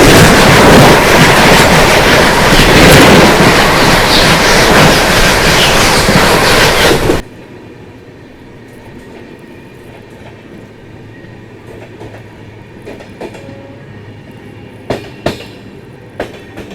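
The Chhattisgarh Express passes close by with a loud, dense roar of wheels and carriages that cuts off abruptly, leaving a quiet platform ambience with a few faint clicks.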